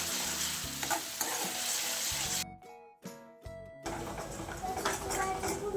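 Masala for a chickpea curry sizzles and fries in oil in a pan as it is stirred, with scraping strokes and a brief quieter gap partway through before the steady sizzle returns.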